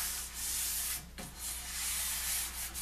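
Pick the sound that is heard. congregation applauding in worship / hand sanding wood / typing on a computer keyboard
hand sanding wood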